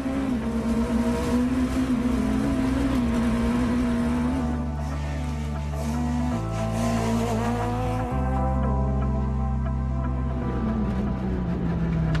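A Peugeot 205 GTI F2 rally car on the Rallye du Rouergue in Occitanie, its engine droning loudly and steadily with the pitch rising and dropping through gear changes, heard close and continuous from inside the car.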